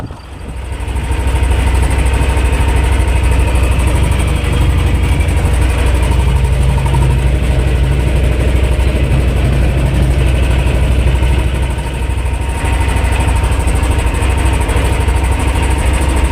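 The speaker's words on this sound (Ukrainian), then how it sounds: "також і тракторець не найкращий, ну але справляється" A T-25 tractor engine labours while plowing virgin land, a loud, steady, close diesel drone with deep low rumble and a brief dip midway, no talking.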